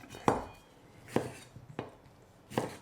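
Four sharp knife strikes through onion on a cutting board, spaced irregularly and close by, for a sweet and sour crispy squid dish, with no talking.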